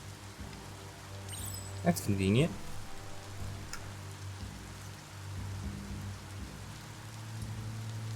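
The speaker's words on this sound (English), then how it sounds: "And now it's raining." Continuous soft rain patter in the video game Biomutant, with a low steady hum underneath; a brief voice speaks early on over the rainfall.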